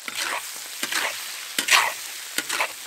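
Pork lung with oil, Sichuan peppercorns, bean paste, pickled ginger and pickled chilies in a hot wok, four rhythmic scraping stirs over a sizzling hiss, close and fairly loud, no one talking.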